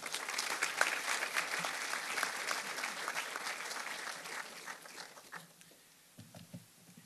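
An audience applauds to welcome Dr. David Borman at an FAU/Technion partnership event, with sustained dense clapping from a crowd that tapers off over several seconds, followed by faint voices as it fades.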